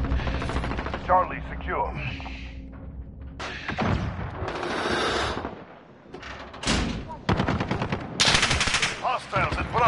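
Video game gunfire from a tactical multiplayer shooter: loud bursts of automatic weapon fire and single shots, close and repeated throughout, with players talking over the action.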